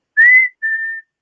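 A person whistles an imitation of the black-capped chickadee's spring mating call: two clear, loud notes, the first slightly rising and the second a steady, slightly lower tone, alone against silence.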